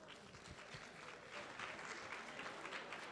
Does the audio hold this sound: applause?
yes